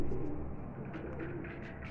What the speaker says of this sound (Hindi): ये लगा दिया है जीरे कबूतरों का जोड़ा